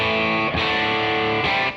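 Lightly driven electric guitar played through a Boss RE-202 delay pedal, a sustained overdriven chord restruck twice, with delay trails thickening the ringing tone.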